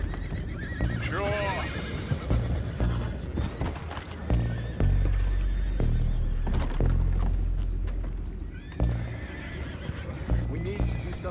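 Horses whinny several times with rising, wavering neighs and clip-clop hooves in a video game, mixed with thuds and booms while voices talk over them.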